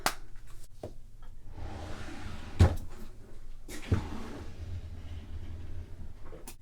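A makeup drawer slides open with a few soft knocks and a sharper clunk, followed by quiet shuffling of items inside, close and fairly faint.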